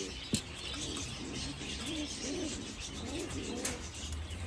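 Pigeons and young squabs coo in a loft, a run of soft repeated throaty calls close by, with a couple of faint clicks and steady background hiss.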